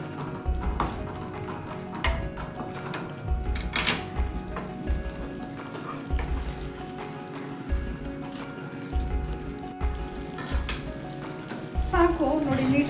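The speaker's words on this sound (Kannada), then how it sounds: "ಸಾಕು ನೋಡಿ, ನೀಟಾಗಿ ಫ್ರೈ ಆಗಿದೆ." Okra frying in a pan, crackling and sizzling steadily with intermittent stirring clatters and taps of a utensil against the pan, fairly close and moderately quiet.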